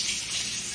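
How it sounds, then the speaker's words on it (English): A tomato is rinsed under a running kitchen tap, a steady close hiss of flowing water filling the brief moment without any voices. "I'm going to wash it"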